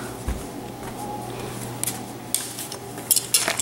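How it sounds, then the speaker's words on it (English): Flour being whisked into a roux, quiet metallic clinks and scrapes of a whisk against the pan that grow busier toward the end, close but soft, with no speech. "We're going to whisk the flour in."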